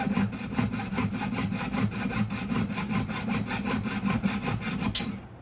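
Rapid, even back-and-forth strokes of a jeweler's hand saw cutting through the shank of a 14k white gold ring, loud and close, about four strokes a second, ending with a sharp click.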